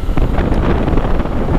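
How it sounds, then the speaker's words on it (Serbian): Steady, loud wind buffeting the microphone while riding a 2018 Yamaha MT-09 Tracer (FJ-09) motorcycle, a continuous broadband roar with no speech over it. "osjećam vetar koji mi udara direktno u oči"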